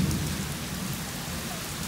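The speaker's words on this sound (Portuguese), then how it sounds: "Olha o trovão." Heavy rain and wind roar steadily at the Banabuiú reservoir during a storm, a broad constant wash with a low rumbling underneath that suggests thunder.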